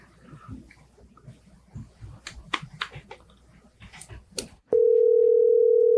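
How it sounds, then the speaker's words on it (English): A telephone tone on an outgoing call to a radio interview guest sounds as one loud, steady, unbroken tone that starts abruptly near the end, after quieter room noise, a few soft clicks and faint murmuring. "It is exciting hearing the phone ring."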